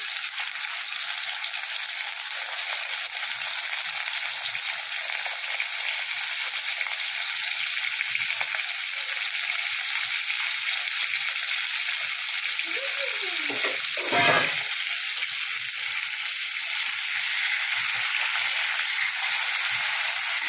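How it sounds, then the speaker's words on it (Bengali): Sea crabs fry in hot oil, giving off a dense, even sizzle that holds loud and steady throughout, with a brief stir or scrape midway. "গরম তেলের ওপরে কাঁকড়াগুলোকে আমি ছেড়ে দিচ্ছি"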